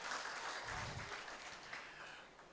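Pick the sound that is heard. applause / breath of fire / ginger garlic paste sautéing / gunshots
applause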